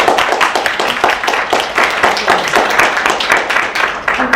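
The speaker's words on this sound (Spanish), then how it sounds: "Entonces también démosle un fuerte aplauso" An academic conference audience claps steadily in sustained applause, many hands beating in a loose, even rhythm for several seconds.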